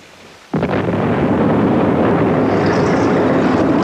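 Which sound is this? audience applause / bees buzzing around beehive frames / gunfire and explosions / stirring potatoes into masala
gunfire and explosions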